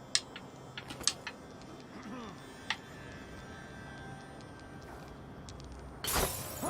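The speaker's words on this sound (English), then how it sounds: "Broken glass." Glass shatters in the video game Dishonored 2, a sudden bright burst of breaking shards near the end that follows scattered faint ticks and clicks over a quiet ambient bed.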